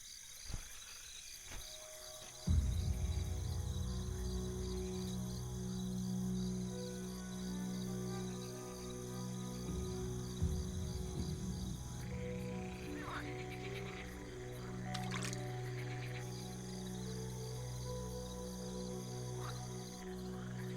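Iberian green frogs call in a dense, continuous croaking chorus at a pond, steady and fairly close, with insects trilling in the background.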